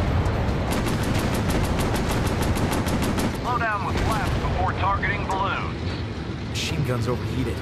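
Rapid aircraft machine-gun fire in the VR game Warplanes: Battles over Pacific, a loud, steady stream of evenly spaced shots over constant engine roar, then breaking off partway as a voice speaks over the din.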